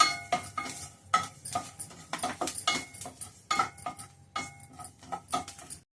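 Fenugreek and cumin seeds are stirred in a pan while roasting for an amla and green chilli pickle, with a spoon repeatedly clinking and scraping against the metal in quick, close, irregular bursts.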